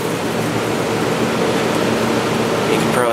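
A Hotpoint 8,400 BTU window air conditioner runs with its compressor on, a steady dense whooshing hum with a faint tonal drone, close and constant for a few seconds.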